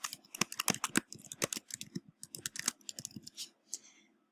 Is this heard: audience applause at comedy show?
no